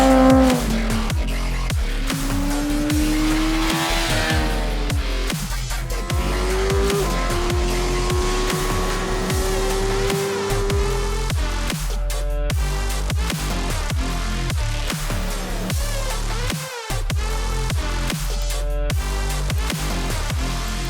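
A Suzuki GSX-R1000 sport motorcycle engine revs hard while riding, its pitch climbing and falling through repeated sweeps in a loud, continuous run with no talking.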